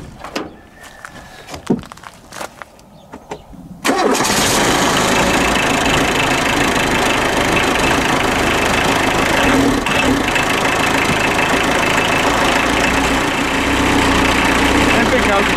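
A Renault car engine, freshly repaired after a failed head gasket, catches after a few seconds of clicks and handling, then settles into a steady, loud idle that runs on without a break.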